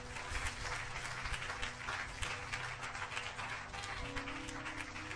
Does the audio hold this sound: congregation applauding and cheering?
yes